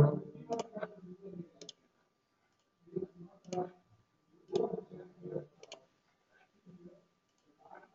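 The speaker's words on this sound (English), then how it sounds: "Click OK." A computer mouse clicks during a business-software tutorial: a handful of short, faint, scattered clicks spread over several seconds, with soft murmuring in between.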